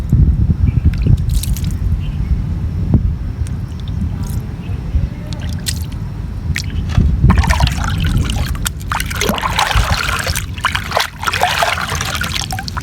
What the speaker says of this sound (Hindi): चलो ये गमला भी धुल गया।